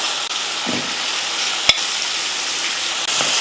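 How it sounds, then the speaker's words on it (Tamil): Mutton and masala stirred in a hot frying pan: a steady sizzle and hiss with a few scraping strokes of a spoon against the pan, close by, with nobody talking. "மசால் கூட மட்டன் போட்டு நல்லா ஒரு ரெண்டு நிமிஷத்துக்கு இது போல் கலந்து விட்டுட்டு"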